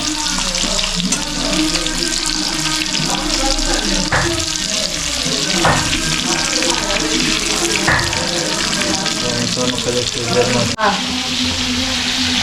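Masala-coated fish fries in hot oil in a village-style pan, with a steady, loud sizzle throughout and a few soft clatters as the pieces are flipped.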